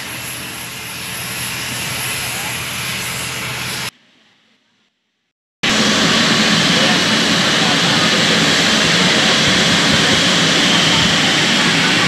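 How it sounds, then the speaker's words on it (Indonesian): A passenger jet carrying returning Hajj pilgrims lands at Minangkabau International Airport in Padang, its loud, steady engine roar filling the scene, cut by a brief near-silent gap before the roar resumes louder. "Pesawat kedatangan kloter 13 Padang telah mendarat di Bandara Internasional Minangkabau."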